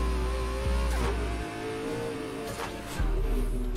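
Engine of a McLaren P1 GTR race build accelerating hard in the video game Need for Speed Heat, a loud revving drone with gear shifts and rising tone.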